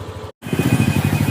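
A Yamaha NMAX turbo scooter engine is heard while riding, a loud, close, pulsing low drone that cuts out for a split second and then resumes.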